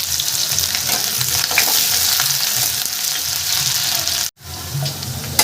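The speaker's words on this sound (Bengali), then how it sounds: "তেল গরম হয়ে গেছে বন্ধুরা, এর মধ্যে আমি দিয়ে দিচ্ছি কুচনো পেঁয়াজ।" Finely chopped small onion frying in hot oil in a pan, a steady close sizzle with stirring scrapes throughout and a brief break near the end before the hiss resumes.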